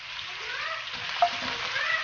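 Goat meat added to hot oil with browned onions and ginger garlic paste, frying with a steady close sizzle and faint stirring scrapes, one brief clink partway through, no voices.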